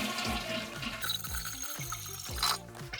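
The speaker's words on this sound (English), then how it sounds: "I'm just gonna drain the whole tub." Water gurgles and rushes as a toilet tank drains during a bidet installation, a close, splashy flow with a brief gap before it surges again.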